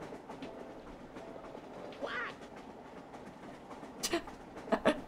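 Quiet rumble of a train rolling along the rails, with a few brief squeals and clicks rising over the steady background.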